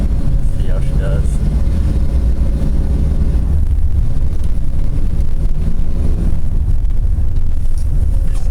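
1996 Ford F-250 pickup truck, freshly fitted with a Dana 60 straight front axle, driving along with a low engine rumble and road and wind noise throughout, while people talk inside the cab.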